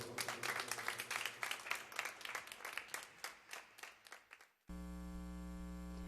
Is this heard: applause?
yes